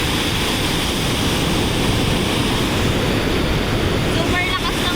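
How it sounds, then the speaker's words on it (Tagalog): Strong sea waves at a beach in Pangasinan give a continuous loud roar of surf, heavily blended with wind buffeting the microphone, with no clear breaks between swells. "Super lakas ng alon"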